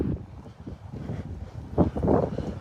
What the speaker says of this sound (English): I'm sorry it's so windy, y'all.